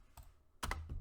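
Keystrokes on a computer keyboard while entering an expression in After Effects: one soft click, then a quick close cluster of louder taps, followed by another click, with no talk.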